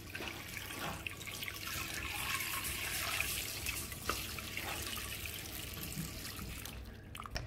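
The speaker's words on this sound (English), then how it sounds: "So I'll be adding some water." Water runs steadily into a cooking pot holding washed stockfish for spinach soup, a continuous near rushing pour with no talk.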